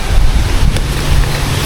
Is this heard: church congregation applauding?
no